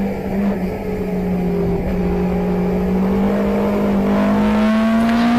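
Ford Escort saloon race cars howl downhill through a bend at Brands Hatch, a loud, sustained engine drone with rising pitch as they accelerate, no voices over the roar.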